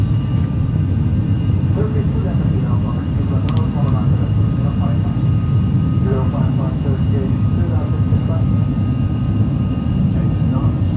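Aircraft jet engines spool up from 40% to full takeoff power in a steady, loud, continuous roar that fills the whole stretch, with voices talking over it.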